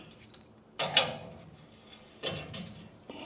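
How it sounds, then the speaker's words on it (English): Ratchet clicks and metallic clunks while undoing lock bolts on a classic car body come in a few short bursts separated by quiet pauses, close by. "I've got to undo these two lock bolts on the back here."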